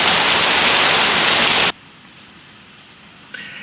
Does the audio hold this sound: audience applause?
no